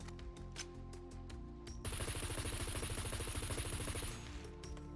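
Regular 9mm rounds fired at a locked vehicle in SCUM: a few isolated thumps give way to a dense, rapid stream of automatic gunfire lasting about two seconds, then stopping abruptly, with no talking.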